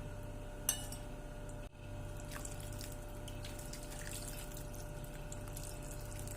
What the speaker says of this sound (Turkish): Yemeğimizin suyunu bu şekilde ekledim.